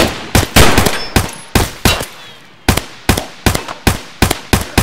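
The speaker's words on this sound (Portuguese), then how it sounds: "Eu dou dois tiros no cara." Gunshots in Escape from Tarkov: a loud series of sharp, evenly spaced single shots, roughly a dozen cracks in quick succession, each ringing briefly before the next.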